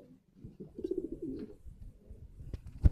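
Racing homer and Madrasi pigeons coo softly while one is held in the hand, low murmuring coos close by with light handling rustle and a sharp knock at the end.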